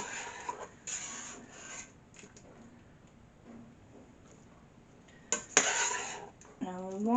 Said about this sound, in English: So ladle this one in.